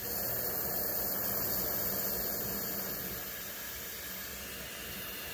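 A Dremel Versaflame torch burns on a minimum flame, giving a steady, close, rushing hiss that eases slightly in level partway through and runs on alone.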